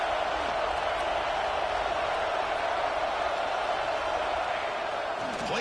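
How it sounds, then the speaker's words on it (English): Loud, steady roar of a college football stadium crowd, a dense continuous wash of massed voices filling the whole stretch without letup. "wow, listen to this crowd noise. This stadium is vibrating"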